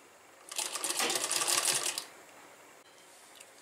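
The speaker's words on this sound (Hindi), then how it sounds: "कंधे पर डबल सिलाई हो गया।" A sewing machine runs a double stitch along a kurti shoulder seam, giving one close, rapid mechanical whir of about a second and a half within a quiet room.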